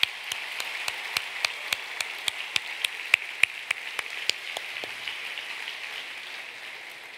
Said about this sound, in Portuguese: Vamos aplaudir bem forte.